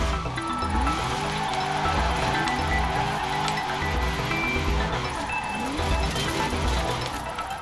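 A V8 taxi car drifts sideways in Forza Horizon 4, its engine revving in steady, pulsing waves with tire noise, loud and continuous throughout with no talking.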